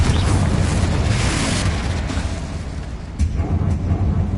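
Confringo blasting curses explode in Hogwarts Legacy, a loud, sustained run of deep booming blasts and roaring rumble, with a fresh sharp burst late on, all close and dense without pause.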